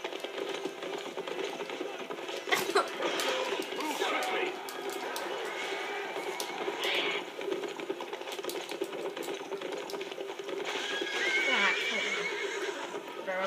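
In the video game Lord of the Rings Conquest, a horse whinnies and its hooves pound rapidly in a gallop amid battle clatter, with someone talking over the game sounds.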